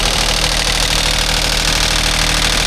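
A small excavator's diesel engine runs at a steady idle, close and loud, with a constant low rumble and a slightly rough, knocking edge throughout, in a rural setting in Nam Som, Udon Thani, Thailand.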